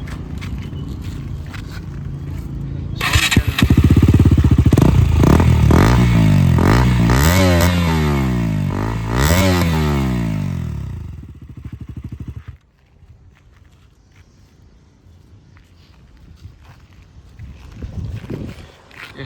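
A fully modified KTM Duke BS6 motorcycle with an aftermarket exhaust fires up and revs hard several times, rising and falling sharply, loud and close, before cutting off to quiet background.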